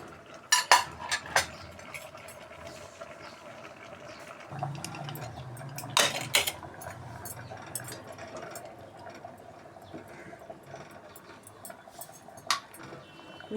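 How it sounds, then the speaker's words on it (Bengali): Sweet potato pieces tumble into a cooking pot for a pumpkin and raw mango sour dish, giving a few close clattering knocks and a brief soft splash among scattered kitchen clinks. "এবার আমি দিয়ে দিচ্ছি মিষ্টি আলুগুলো।"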